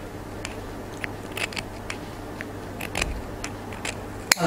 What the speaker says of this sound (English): I'm just going to trim away my excess fabric here